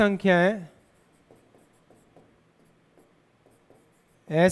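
Marker or chalk strokes land on a board as a definition is written in a maths class, faint and rhythmic, tapping and scratching between stretches of someone speaking.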